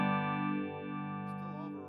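Electric guitar played clean and loud through an Electro-Harmonix 44 Magnum amp, a single sustained chord that rings steadily and fades only slightly.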